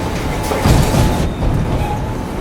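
A train rumbles loudly and close through a narrow village, a steady heavy rolling roar with a brief swell in the middle and no voices.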